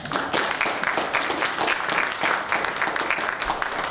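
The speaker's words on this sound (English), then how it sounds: "Let's give those people who are going to be inducted tonight a hearty round of applause." A hall crowd at a high school alumni Hall of Fame ceremony applauds the inductees, a dense, even wash of clapping from many hands at moderate distance, with no voice over it.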